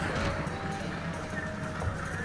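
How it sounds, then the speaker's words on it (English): Armenian cataphract cavalry charge in a Europa Barbarorum battle, a dense drumming of many hooves under constant battlefield noise, steady and moderately loud without a clear individual rhythm. "Here come the Armenian cataphracts in."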